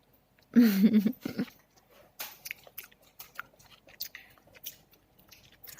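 Someone bites and chews sweet tamarind pods up close, starting with a sharp crunchy bite and then giving way to a string of softer, wet chewing and smacking sounds, with nothing else going on.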